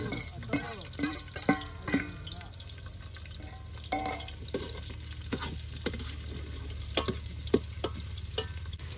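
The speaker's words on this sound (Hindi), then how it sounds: "जैसे घी गर्म हो जाए ना तो इसमें फिर हम प्याज डाल देंगे जो हमने बनाए हुए हैं" Onions sizzle in hot ghee for biryani, cooked in a village kitchen, with a steady frying hiss under repeated clinks and stirring knocks, while faint voices and running water sound in the background.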